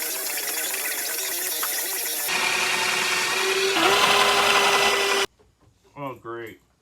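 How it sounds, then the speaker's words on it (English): A drill boring pocket holes in plywood: a steady, loud whirring run for about five seconds that shifts pitch partway through, then stops abruptly and a person speaks briefly. "We're gonna put some pocket holes in it."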